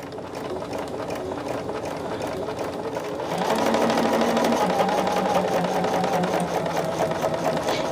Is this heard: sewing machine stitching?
yes